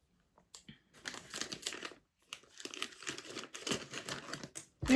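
A crinkly plastic snack wrapper, a Scandinavian banana-flavored candy bag, being torn open up close: a short rustle, a pause, then a longer burst of crackling and ripping, fairly quiet with no talking.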